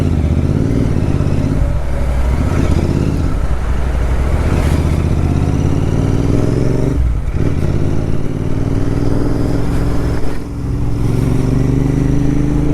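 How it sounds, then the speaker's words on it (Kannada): Motorcycle cruising along a highway near Udupi on a ride from Shiradi Ghat toward Malpe Beach: loud continuous engine drone mixed with heavy wind rush and occasional passing-traffic swells, heard from the rider's position. "not bad for A bike ride"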